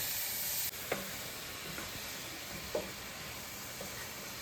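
Onions and green chillies frying in hot oil for an Andhra fish pulusu, a soft steady sizzle with a few spoon taps and stirs, close but fairly quiet, no voices.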